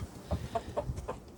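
A few soft clucks from chickens in a coop, spaced irregularly over a quiet background, moderately close but fairly faint.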